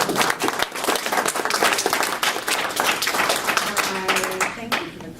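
An audience applauds steadily and loudly for about five seconds at a Stumbling Stones remembrance event, the clapping thinning toward the end as a voice begins.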